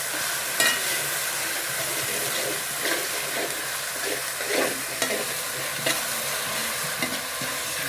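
Ginger garlic paste and chili powder sauté in a pan for fish curry, with a continuous close sizzle broken by repeated scraping stirs of a spoon at irregular intervals, and no voices.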